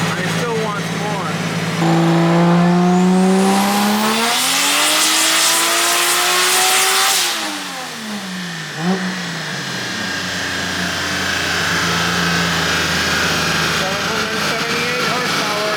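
A 2JZ-powered BMW E36 running E85 revs hard on a dyno pull, very loud and close, its engine note climbing steadily for several seconds, then dropping off and settling into a lower drone.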